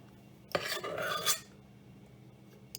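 A metal spoon scrapes and scoops blue-tinted meringue from a pint glass in one brief, fairly close burst of scraping lasting about a second, followed by quiet.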